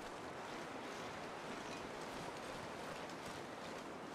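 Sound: wind after a blizzard in video game The Long Dark

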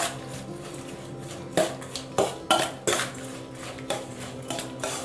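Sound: tossing Thai glass noodle salad in a bowl

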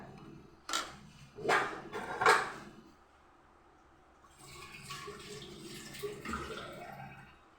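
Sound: water rinsed from a pressure cooker

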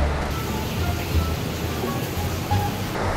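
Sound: rain and thunder

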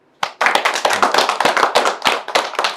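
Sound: audience clapping

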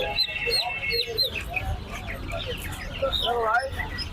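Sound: chickens clucking at a poultry seller

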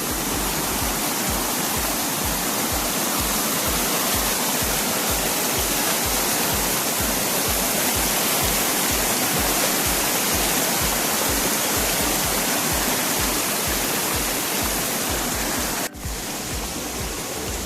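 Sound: rushing water while wading through stream at night

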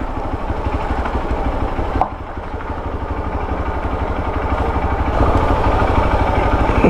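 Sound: powerful motorcycle engine idling

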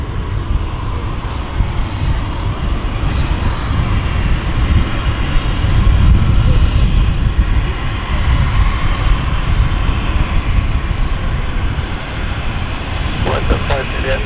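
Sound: aircraft arriving at London City Airport

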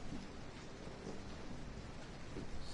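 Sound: rain in video game Resident Evil 7

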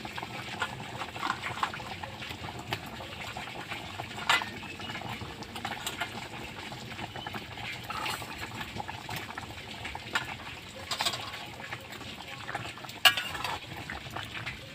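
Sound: fish curry with potatoes and lentil badi boiling

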